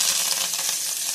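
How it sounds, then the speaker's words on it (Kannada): Cumin, mustard seeds and curry leaves splutter in hot oil as a tempering for coconut chutney, making a short, close, dense sizzle with fast crackles. "ಚಟಪಟ ಚಟಪಟ ಚಟಪಟ ಚಟಪಟ ಅನ್ನುತ್ತಿದೆ ಈ ಚಟನಿ."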